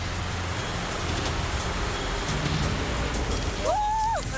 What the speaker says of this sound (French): La pluie tombe sur la figure.